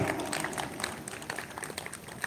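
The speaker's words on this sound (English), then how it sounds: "Please give a huge round of applause." Audience applause at a continuing education programme event, a steady dense patter of many hands clapping throughout, fairly faint and without voices over it.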